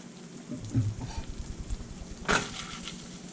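Garlic simmers in butter in a pan while spiny lobster is being cooked, giving a faint, soft crackle and sizzle with a brief louder pop of spattering near the end.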